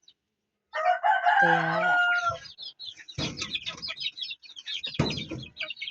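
Backyard chickens cluck and a rooster crows loudly nearby, a drawn-out crow followed by bursts of clucking and scratchy rustling, with a brief spoken word at the start.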